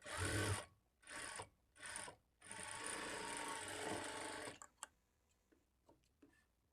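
A sewing machine stitches alongside a blouse's kaja strip in loud whirring bursts, several short runs, then a long steady run, followed by scattered clicks and taps as the cloth is adjusted.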